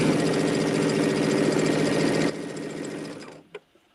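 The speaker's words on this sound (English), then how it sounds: "it's a little weird sewing these together in strips like this" A sewing machine runs fast and steady as fabric strips are stitched together, then slows and stops with a final mechanical clunk; close-up and loud with no speech.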